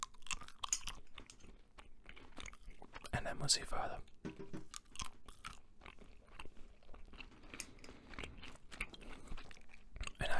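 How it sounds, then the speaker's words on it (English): Close-up, wet crunchy chewing and biting of gum, recorded intimately in an ASMR setting, with soft mouth clicks and a brief spoken phrase in the middle. "What I thought we'd do instead is chew a little bit of gum"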